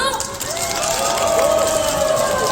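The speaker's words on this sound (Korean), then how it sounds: "우리 친구들 오늘 공연 기대되면 박수와 함성 주세요" A packed multi-level mall audience full of young children claps and cheers loudly before a musical gala show at IFC Mall, a sustained roar of applause and high shouting voices.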